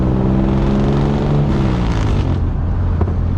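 A car powered by an engine from a 1958 GMC truck runs loud and close, its rumbling revs rising and then sliding down in pitch, with no talking over it.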